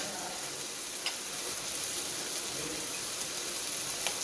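Chili powder, a blend of hot and Kashmiri chili, sizzles in a pan of oil for a Kottayam-style fish curry, a soft, steady hiss with faint crackles and no talking.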